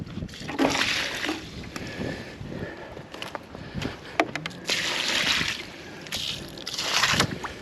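Water splashed and sloshed onto freshly set concrete around a fence post on very wet ground at a farm, a few soft outdoor splashes and pours with light wind in the background.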